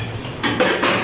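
Wet dishes and metal utensils are handled before washing, three quick, loud clattering knocks in close succession, up close with no talk.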